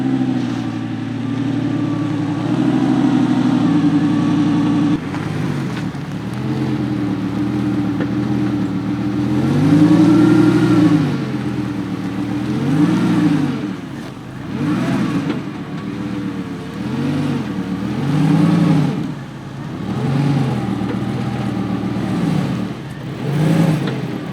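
A Lamborghini Gallardo's engine through a slow U-turn, a steady close rumble that swells and dips as the throttle is fed in and eased off, with rising and falling revs and no voices.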